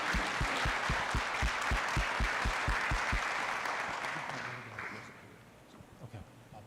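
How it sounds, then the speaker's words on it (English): Audience applause at a city council meeting, a thick wash of clapping with a strong rhythmic thumping beat for the first few seconds, then the clapping thins and dies away into quieter room sound. "So please give them one more round of applause."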